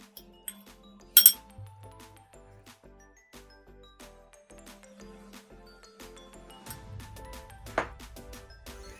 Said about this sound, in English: now we're going to mix in our dry ingredients and add them into our mixture